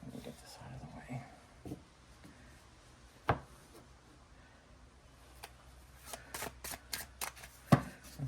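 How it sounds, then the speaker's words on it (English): Tarot cards are riffled and tapped in a quiet room, with a few soft snaps and a quick burst of flicking shuffles near the end, faint and close amid low murmured speech. "Let's see if we can shuffle this once."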